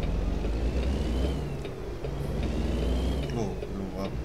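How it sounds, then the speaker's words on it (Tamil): Truck approaching in American Truck Simulator: a steady low engine rumble and road noise throughout, with a faint whine rising and falling, under continuous talk. "ஓ, ட்ரக் வருது"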